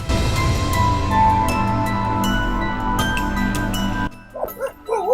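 Street dogs bark and yip amid a noisy outdoor scene, with a few sharp high yelps standing out near the end.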